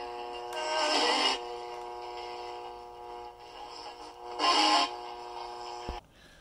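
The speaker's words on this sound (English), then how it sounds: "if I point it up toward the ceiling, you hear the AC hum from the LED lights" AC hum from LED lights picked up by an antenna, heard as a buzzy harmonic drone through a receiver, with two louder noisy bursts and a sharp click near the end.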